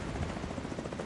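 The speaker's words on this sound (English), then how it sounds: "Helicopters." Helicopter rotor drone in the shooter game The Division 2, a dense, steady broadband rumble with pulsing low thump, continuous and fairly loud across the short moment.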